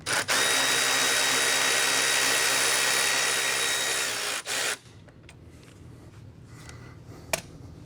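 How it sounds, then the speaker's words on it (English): A power tool spins out a 10mm bolt holding the oil cooler line on a Lexus RC-F, whirring loud and steady for about four and a half seconds before cutting off, followed by quiet shop ambience and a brief click. "So now we're going to remove the upper line 10mm bolt that's holding the line onto the cooler."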